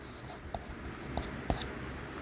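Marker or chalk strokes on a board, a few soft scratchy taps and scrapes spaced irregularly over quiet room tone, close and faint.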